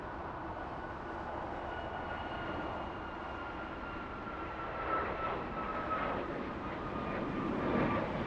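A freighter aircraft rolls off the runway onto taxiway Lima at LAX, its engines giving a steady rumbling roar with a faint sustained whine, swelling slightly as it draws closer.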